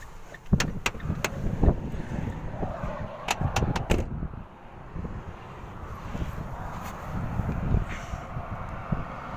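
A steady roar of passing highway traffic beside a roadside stop, mixed with buffeting wind. A few sharp clicks and knocks occur nearby early on before the continuous rushing noise carries on alone.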